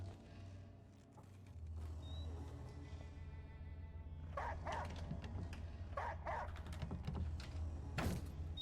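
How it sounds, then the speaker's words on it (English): A dog barks and yips in a few faint, spaced bursts within the eerie low ambience of the Layers of Fear 2 video game. "A spooky dog."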